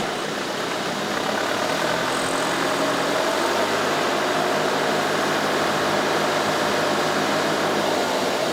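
A motor on the GEMINI 2 floating grab crane runs in a steady, loud, droning idle with constant vibration and no voices.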